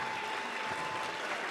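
Basketball arena crowd at a UCF versus Wisconsin game applauding and cheering, a dense, steady wash of clapping and voices filling the hall at moderate level.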